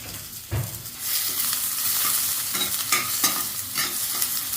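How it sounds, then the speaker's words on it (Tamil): Onions sautéing with curry leaves in oil in a pan, a loud, close sizzle under quick, repeated scraping strokes of a stirring spoon, no one speaking. "நல்லா வெங்காயத்தை வதக்கிக்கிறோம்"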